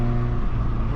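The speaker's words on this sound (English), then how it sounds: "So I'm gonna pull out on the road here." A first-generation Plymouth/Dodge Neon DOHC coupe pulls out onto the road, its engine giving a steady, close, droning hum with light road noise.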